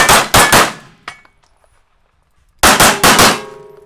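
A Springfield Echelon pistol fires in two quick bursts, each with a couple of sharp, loud, ringing shots, separated by a short quiet gap with a faint click.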